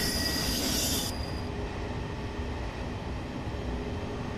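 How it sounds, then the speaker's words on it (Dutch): A passing train pulled by a locomotive combination gives off a loud, high wheel squeal for about a second, then a lower steady rumble of rolling rail cars heard from nearby. "Ik vind het hier niet erg hoor dat hier weer een lokcombinatie rijdt."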